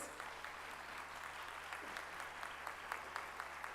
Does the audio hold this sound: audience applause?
yes